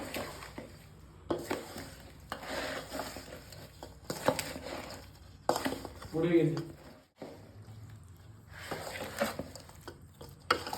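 Mango pickle gets stirred with hot mustard oil by hand, giving soft wet squelches, patters and occasional clinks of a utensil against a bowl in irregular bursts, while a voice talks over the mixing.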